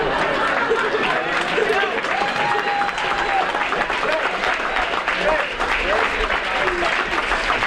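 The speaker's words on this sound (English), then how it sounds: "another round of applause for Megan Scott" An audience at a fall sports awards night breaks into loud, sustained applause, a dense wash of clapping with some crowd chatter and a voice speaking underneath.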